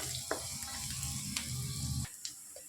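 Raw banana slices fry in hot oil with asafoetida, a steady close sizzle that carries a faint clatter. The sizzle drops away abruptly near the end and leaves only a few soft clicks.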